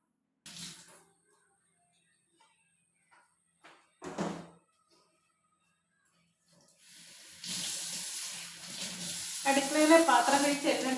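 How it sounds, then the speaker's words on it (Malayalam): After a few sparse clinks of dishes, a kitchen tap runs steadily as dishes are washed under it, with the splashing of water growing louder and more uneven toward the end. "ഞാൻ പാത്രം കഴുകിക്കൊണ്ടിരിക്കുന്നത് ഒന്ന് അടുക്കി വെച്ചിട്ട് ഇവിടെ ഇങ്ങനെ കഴുകിയും കൂടി ഇട്ട്"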